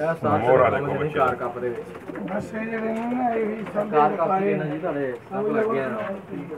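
Pigeons coo continuously, low and throaty, close by, with a voice talking over the birds.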